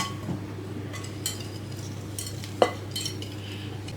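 A spoon stirs gluten-free flours, tapioca flour, baking soda, baking powder and pumpkin pie spice in a bowl, giving soft, repeated scraping and light clinks over a low background hum, with one sharper knock partway through.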